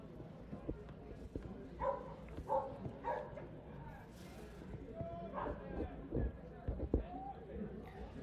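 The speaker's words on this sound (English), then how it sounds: "Couple dogs in the stands today showing their excitement here in the top of the 7th" A couple of dogs barking among spectators in the stands at a college baseball game, several short yips and barks at a distance mixed with crowd noise and nearby talking.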